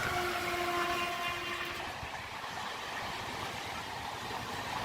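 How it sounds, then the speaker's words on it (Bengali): A Rajdhani Express train rushes past at speed, heard from a nearby train halted at a station: a loud, steady roar of wheels and rail noise with a brief horn tone at the start. "রাজধানী এক্সপ্রেস আমাদের ট্রেনকে পিছনে ফেলে দুর্বার গতিতে কিন্তু তার গন্তব্যের দিকে এগিয়ে যাচ্ছে"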